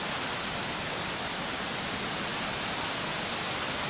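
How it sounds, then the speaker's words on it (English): A waterfall near an old iron furnace at Cumberland Gap, Tennessee, swollen after rain, gives a steady, even rushing roar that fills the whole stretch without break. "The waterfall over there."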